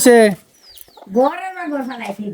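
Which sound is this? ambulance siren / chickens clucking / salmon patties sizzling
chickens clucking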